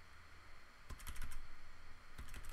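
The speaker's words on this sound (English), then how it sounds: "So I'm just using my arrow keys to move where the shadow is falling." Computer keyboard arrow keys tapped in quick clusters of light clicks while nudging a layer in After Effects, close and quiet, with no talking.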